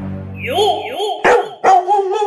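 A dog, given as a gift in a family scene, whines in rising and falling tones and then lets out a few sharp barks, close and loud.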